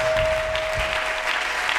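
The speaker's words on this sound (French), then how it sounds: "Est-ce que nous pouvons acclamer très fort pour le roi des rois?" A church congregation applauds loudly and steadily, a dense wash of clapping that fills the room with no voices standing out.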